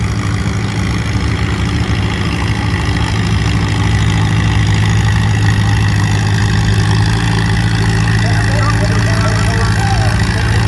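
A tractor engine roars at a tractor pull competition, a loud, continuous low-pitched rumble holding steady throughout, with an announcer's voice and crowd chatter faintly under it.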